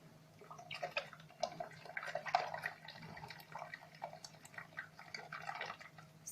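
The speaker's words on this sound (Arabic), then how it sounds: "هنا دابا غنضيف الكأسان ديال الحليب" Two glasses of milk are poured into a coconut and fine semolina mixture for basbousa, giving a faint, uneven liquid splashing and trickling with small drips, quiet and close, with no talk.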